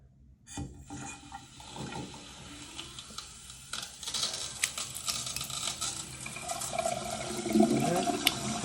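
Water runs steadily from a newly installed Pfister widespread bathroom faucet, a continuous splashing hiss that builds and grows louder over several seconds, with faint clicks and knocks from the fixture and no speech.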